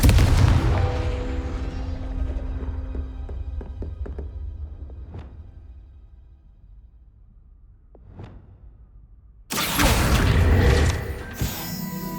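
A Confringo blasting spell bursts loudly in Hogwarts Legacy, with a big broadband explosion and rumbling tail, then sharper cracks and whooshes, a quieter stretch, and a second heavy blast near the end.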